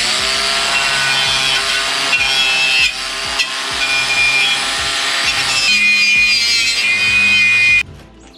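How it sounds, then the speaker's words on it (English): An angle grinder scours rust off the rear differential cover of a Ford F-150 in a continuous loud, harsh grinding whine. Its pitch shifts slightly as pressure changes, then it cuts off abruptly near the end. "I just think that this is going to be a little bit easier using the angle grinder, and it'll clean it up quicker and easier."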